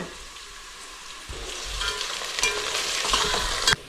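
Onions for a chicken biryani gravy fry in a pan, giving a steady close sizzle that grows louder and busier midway, with occasional stirring scrapes and no talking.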